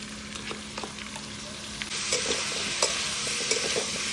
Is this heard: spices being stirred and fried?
yes